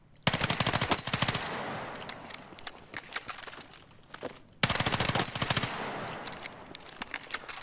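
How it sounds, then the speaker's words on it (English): An SMG in the video game Battlefield 6 is tap fired in two quick, loud bursts of rapid shots, each followed by scattered single shots and faint game noise. "What I'm doing is I'm tap firing"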